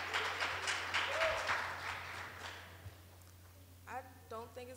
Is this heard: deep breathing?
no